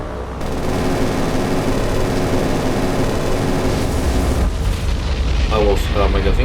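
A warship's magazine explodes in the naval game War on the Sea, a loud sustained rumbling blast with crackling debris and gunfire that keeps roaring for several seconds.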